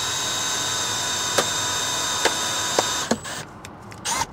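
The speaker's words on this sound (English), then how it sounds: "we're gonna reel up the right spool just so it has some extra line" Windshield cut-out line spool being reeled up during a Tesla Model Y windshield replacement, a steady mechanical whirring hum with a few sharp clicks, ending in short handling knocks.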